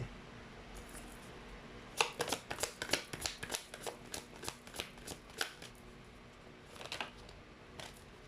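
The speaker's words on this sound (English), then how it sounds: "Let me just get another card." Tarot cards handled and shuffled during a pick-a-card reading, a quick burst of crisp riffling flicks and taps, close and clear, then quieter with a brief second flurry near the end.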